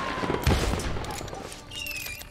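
Outdoor shooting or fireworks around New Year, with a distant rattle of sharp bangs and a louder close burst amid crackling background noise.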